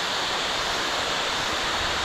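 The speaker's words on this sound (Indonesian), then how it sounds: "Ini air terjun ya teman-teman." A steady, full rushing roar of a tall waterfall in the Meratus Mountains, close by, with no voices and no pauses.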